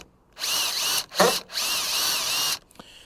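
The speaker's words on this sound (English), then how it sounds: "what I need to do here is drill through these holes" A power drill bores through pre-drilled holes in an epoxy plug on a boat deck, running in two long steady whining bursts separated by a short rougher grinding burst, close and loud with no talk.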